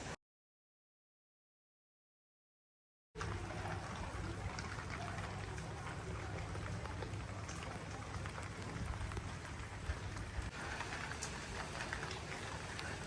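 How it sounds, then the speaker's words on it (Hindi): Morning rain falls steadily on a rooftop, a dense, continuous hiss of drops that starts after a few seconds of silence and holds evenly to the end, with no talking. "तो बारिश हो रही है जी, माशाल्लाह अल्लाह पाक की रहमत हो रही है सुबह सुबह।"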